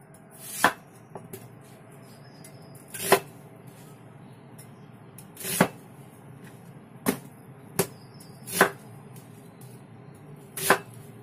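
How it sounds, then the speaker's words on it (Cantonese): Knife strokes through an onion on a cutting board, seven distinct chops spaced a second or two apart, crisp and close against a quiet kitchen background. "呢個洋葱都切咗佢啦"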